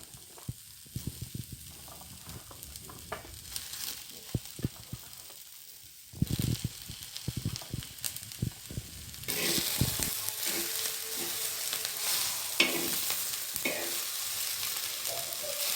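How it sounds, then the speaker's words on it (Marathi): Oil sizzles steadily as onions fry on a griddle, with intermittent scraping and stirring; the frying grows louder and denser partway through, with no voices. "कांदाही चांगला लाल करून घ्यायचा, आपल्याला तव्यावर परतवून घ्यायचा आहे तेल टाकून."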